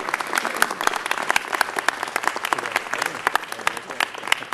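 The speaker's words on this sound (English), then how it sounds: "Let's give them a big round of applause" A crowd at a city council meeting claps steadily for an award, dense overlapping hand claps filling the room at moderate volume for several seconds.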